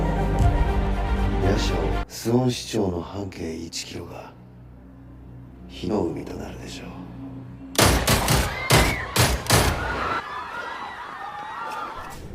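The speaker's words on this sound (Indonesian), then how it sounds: "akhirnya Jaksa Han ini menembak Ji Kang In di depan umum guys" Gunshots ring out in a public shooting scene of a Korean drama; several sharp shots in a rapid cluster near the end, following tense music and people talking.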